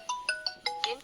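A Nokta Impact Pro metal detector sounding on metal gives five quick, bright electronic beeps in a steady rhythm, close and clear.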